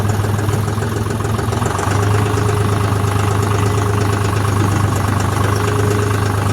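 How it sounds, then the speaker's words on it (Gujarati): Agrolux 45 4WD tractor engine idling, a steady low, even rumble with a constant hum, close and continuous with no voices. "એકદમ મિનિમલ અવાજ છે ટ્રેક્ટરનો"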